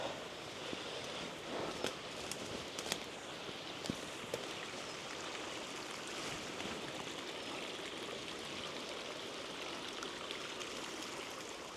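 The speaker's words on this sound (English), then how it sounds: "Oh, we've got a little waterfall." A small waterfall beside the Somersetshire Coal Canal near Midford, a steady broadband rush of falling water that holds even and continuous throughout, with a few faint ticks on top and no voices.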